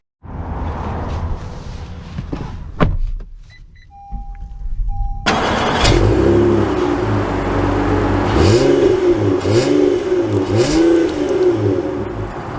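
A 2023 Honda Odyssey Touring minivan starting and pulling away, a steady engine hum rising and falling with rhythmic revs as it accelerates, heard from inside the cabin with no talking.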